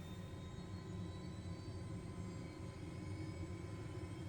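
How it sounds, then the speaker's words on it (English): An MD500E helicopter in Microsoft Flight Simulator 2020 hums steadily as its rotor starts to turn during a cold start, a constant mid-level engine and turbine drone with faint whining tones and no voices. "Rotor blades have started to spin."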